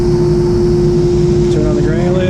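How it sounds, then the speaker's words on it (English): The blower of a Virtus Equipment granulator system runs with a loud, steady drone and constant hum, close by, with a faint rising whine near the end. "Turn on the blower."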